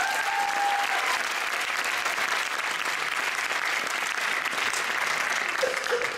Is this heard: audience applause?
yes